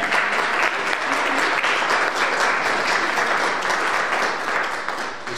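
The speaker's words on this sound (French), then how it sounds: "Alors on pourra applaudir toutes ces personnes," A church congregation applauding during Mass, a full, steady wash of many hands clapping that stays even and close before tapering off slightly at the end.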